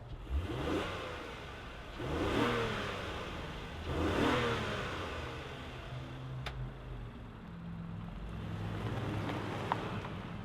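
A 2026 Honda Passport RTL with a V6 engine starting and running: several revving surges rise and fall at moderate distance, then the engine settles into a steady idle, with faint wind and a couple of brief clicks.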